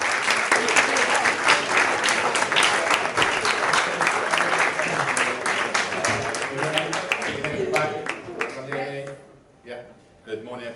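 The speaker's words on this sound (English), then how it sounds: "So I'd like you to welcome Richard Carter to the stage with a big stage round of applause." An audience at a school careers talk applauds to welcome speaker Richard Carter to the stage: dense, sustained clapping that holds steady, then thins and fades near the end, with a hint of voices as it dies down.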